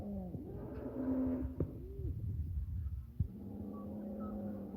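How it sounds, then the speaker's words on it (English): Cows on a homestead let out long, drawn mooing calls, moderately far off, with faint outdoor ambience and a few knocks between calls. "Oh, I've upset the cows."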